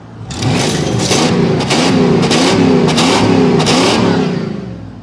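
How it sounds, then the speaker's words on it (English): A loud Mustang V8 engine revs hard in repeated bursts, rising and falling close by, with a deep rumbling tone between pulls. "That's got a Mustang motor under the hood."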